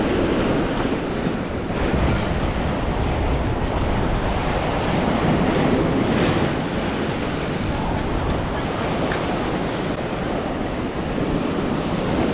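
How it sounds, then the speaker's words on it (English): Rough, choppy ocean waves break against a seawall in a continuous loud roar of surf, with wind buffeting the microphone throughout and no clear voices. "We got waves making it up to the sidewalk, up the seawall, so still pretty choppy, pretty rough."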